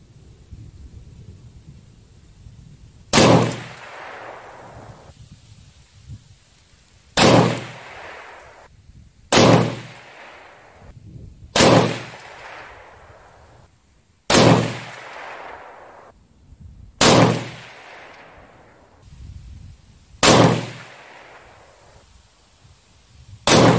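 Seven loud, sharp rifle shots from a 224 Valkyrie firing Hornady 88 gr ELD-Match loads with Reloder-16 at an outdoor range, spaced a few seconds apart, each blast followed by a short decaying echo over quiet background.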